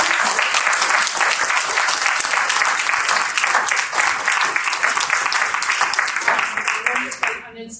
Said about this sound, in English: please join me in a round of applause to thank our speakers